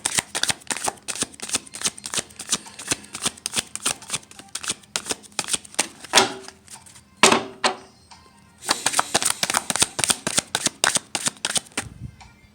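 Tarot cards shuffled by hand up close, a rapid run of crisp riffling flicks and soft slaps that breaks off briefly with a couple of thumps, then starts again in a fast, even rhythm with no talking.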